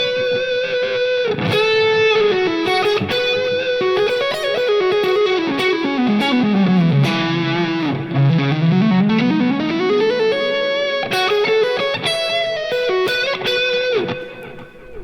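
An electric guitar through a dual Memory Man delay and spring reverb on a Line 6 Helix plays a sliding, swooping melody drenched in echoing repeats and washy reverb, loud and continuous, pitch dipping low then climbing back.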